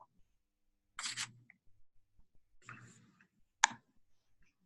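Sparse computer mouse clicks during office software use: a few soft, isolated clicks separated by near silence, with one sharper click near the end.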